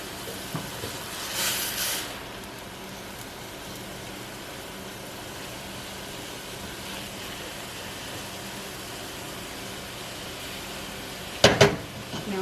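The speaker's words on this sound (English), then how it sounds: "Give our vegetables a stir and kind of just mix everything together well." Vegetables for a peanut butter stew stirred in a sizzling pan, a steady soft frying hiss throughout with a brief scraping swish near the start and a sharp clatter near the end.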